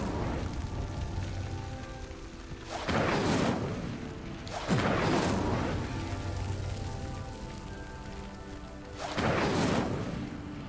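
Fire spell in Hogwarts Legacy igniting pyres: three loud whooshing bursts of flame, each roaring up and slowly fading, spaced several seconds apart over a steady crackling background.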